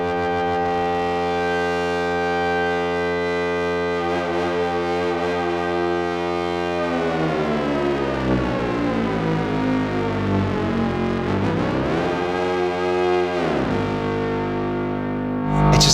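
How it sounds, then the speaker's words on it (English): A sustained, buzzing tone from a UDO Super Gemini synthesizer with heavy distortion, its harmonics sweeping and warping in pitch, loud and continuous, ending in a rising, gritty swell. "Let's put some distortion on it."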